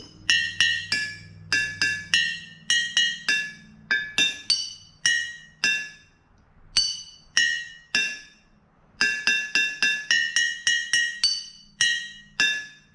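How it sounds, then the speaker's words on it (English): Water-filled mason jars struck like glass chimes, ringing out bright, pitched clinks in quick tapped runs and pauses, each note decaying briefly, with a faint low hum underneath early on. "Can you guys try to play a song on your water glass symphonies?"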